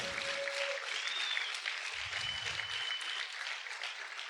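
A church congregation claps steadily through a sermon, a dense, even patter of applause throughout, with brief voices and shouts mixed in.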